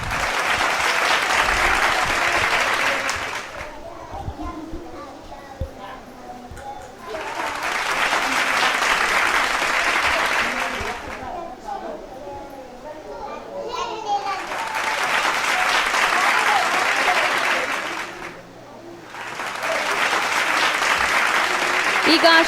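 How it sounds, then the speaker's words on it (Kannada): Loud applause from a crowd of children and adults at a summer camp event at a preschool and day care, coming in three long sustained bursts with short quieter gaps between them. "ಒಂದು ಜೋರಾದ ಚಪ್ಪಾಳೆ ಎಲ್ಲರಿಂದನೂ"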